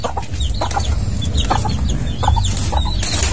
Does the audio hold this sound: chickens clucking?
yes